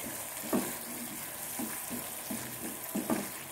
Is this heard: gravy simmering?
yes